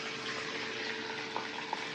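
A steady close sizzle of tempering spices frying in hot oil, with a couple of small pops.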